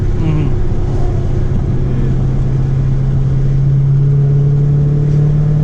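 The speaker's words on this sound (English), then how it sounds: "I like the exhaust. It kind of sounds nice." A Dodge Challenger SRT 392 V8 drones steadily with a low exhaust rumble, holding a constant pitch with only slight rises, loud and close throughout.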